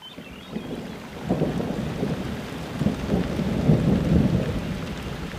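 Thunder rumbles low and rolling through steady rain in the mountains, the storm swelling in the middle and staying heavy to the end.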